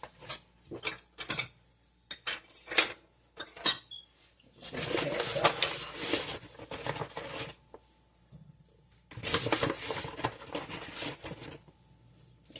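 Flour is sifted into a bowl for Chinese almond cookies, giving a sustained, soft, gritty rasp in two long stretches. Brief clinks of a utensil against the bowl come before it, a bird coos faintly in the background, and nobody speaks.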